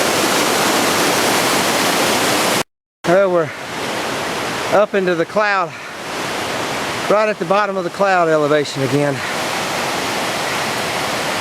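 Rushing water of Panther creek on a wilderness backpacking trail, a steady broadband roar filling the scene, with a brief dropout and someone talking over it in bursts.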